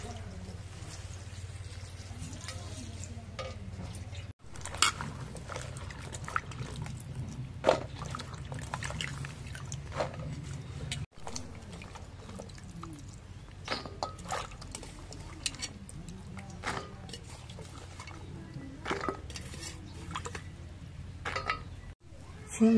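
Flat beans (shim) being washed by hand in water in a village kitchen, with a steady soft splashing and trickling, water dribbling and sloshing throughout, the occasional light clink of a pot, and low background hum.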